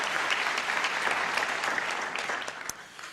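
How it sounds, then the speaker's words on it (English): A seated crowd at a naturalization ceremony gives an honored guest a steady round of applause, dense clapping that holds for about two seconds and then tapers off. "Give him a nice round of applause."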